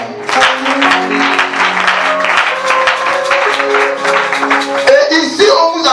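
A church congregation applauding gives a steady, dense patter of clapping throughout, mixed with voices that sound like singing or cheering.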